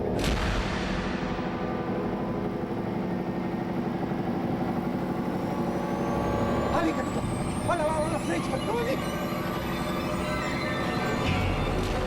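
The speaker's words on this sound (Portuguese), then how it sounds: "desliga o motor!" A truck engine idles steadily and loudly throughout at night in a rural stakeout, a continuous low rumble with broadband noise, while voices shout briefly over it.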